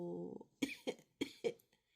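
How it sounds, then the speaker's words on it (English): A cartoon bear doctor, voiced by a narrator, gives four short, sharp coughs in even rhythm, close and clear, after a brief vocal sound. "Dr. Brown Bear has caught Pedro's cough, too."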